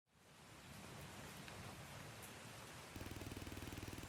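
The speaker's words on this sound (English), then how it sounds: "The rain is really coming down hard." Heavy rain pours steadily on a quiet highway at night, a dense continuous hiss, with a rhythmic pulsing like wipers or a car engine joining near the end.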